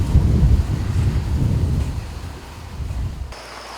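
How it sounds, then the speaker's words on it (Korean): Heavy rain shower with thunder over a grape vineyard during harvest, a loud steady downpour with deep rolling rumbles that ease off toward the end. "소나기가 쏟아집니다."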